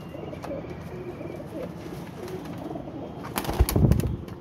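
Soft, low cooing from flying pigeons repeats in a rolling rhythm, followed near the end by a louder flurry that sounds like flapping wings.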